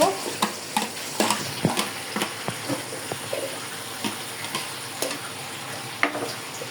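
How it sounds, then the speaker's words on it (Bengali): Fried chicken sizzles in a pan as onion paste goes in, with a steady crackling hiss broken by a series of sharp clinks and scrapes from stirring. "আমার মুরগি ভাজা হয়ে গেছে। এইখানে এখন আমি পেঁয়াজ বাটা দিব"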